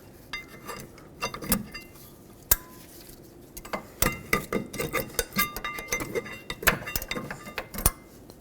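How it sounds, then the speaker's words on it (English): Metal brake pads are pried out of a rear caliper bracket on a 2001–2007 Toyota Highlander, making sharp metallic clinks, scrapes and rattles in irregular clusters, close up and with no talking. "Now remove your brake pads"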